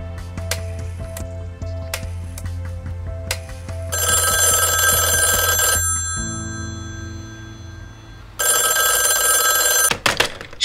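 A telephone rings repeatedly in an office as someone calls the police, loud electronic ringtone bursts separated by pauses, alone with no talk.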